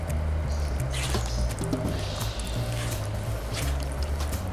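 A hand mixes tekwan fish dough with egg white, making soft, wet squishing and squelching sounds in an irregular kneading rhythm, close up and fairly quiet, with no voices.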